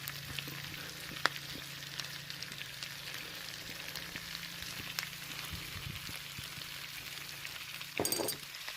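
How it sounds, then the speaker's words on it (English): Curry powder and turmeric toasting in a hot pan for a chicken curry sauce, a soft steady sizzle with occasional clinks of a utensil against the pan and a brief louder scrape near the end, no talking. "Allow your curry to toast."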